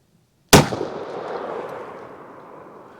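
A Taurus Judge revolver fires a single Winchester Defender .45 Colt/.410 shell: one sharp, loud report followed by a long, fading reverberant tail, with no voices.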